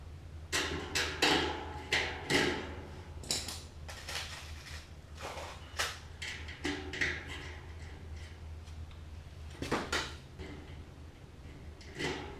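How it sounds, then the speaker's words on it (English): Sharp metallic snaps from a rivet tool, roughly a dozen irregular pops over a steady background hum, close and fairly loud. "So I'm going to go ahead and put 4 rivets in it"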